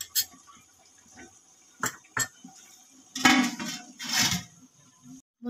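Metal pot lid set down on a cooking pot of chicken biryani, giving several short clanks and scrapes with brief gaps between them, close and fairly quiet, with no talk.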